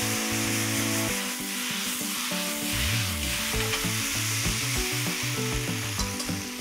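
Sauce yakisoba noodles with seasoning stir-fried in a hot pan give a steady close sizzle and scraping stir that runs throughout, with what seems to be tonal background music over it.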